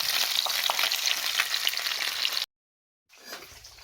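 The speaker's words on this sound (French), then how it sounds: "je rappelle que je suis en train de le faire sauter à feu moyen" Fish sautéing in a pan over medium heat gives a dense, steady crackling sizzle, close and even, that cuts out abruptly and then resumes more faintly.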